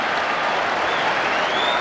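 A football stadium crowd applauds and cheers at the final whistle of a mid-1970s league match, a dense, steady roar of clapping filling the whole moment without a break.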